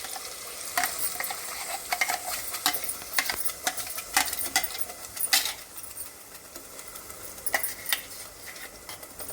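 Ground masala being stirred into a baby potato curry in hot oil: a steady sizzle with repeated scraping and clinking strokes of the spoon, close and with no voices.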